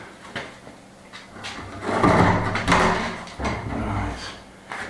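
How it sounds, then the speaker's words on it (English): A propped-up interior door is shifted by hand during a Spanish finca restoration, with scraping, bumping and sliding noises swelling and easing over several seconds, fairly close. "So we need to move the door."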